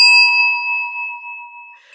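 A single bell struck once as a presentation time reminder at an academic session, its clear ringing tone sustaining and slowly fading over about two seconds.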